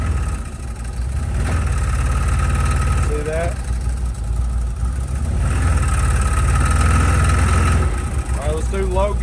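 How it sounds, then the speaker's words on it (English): A CFMOTO UFORCE 1000 side-by-side with an aftermarket clutch kit runs in high gear, its engine and clutches giving a steady, loud drone that holds throughout, with a voice talking over it. "You're going to hear those clutches. It's going to be louder, and that is perfectly normal."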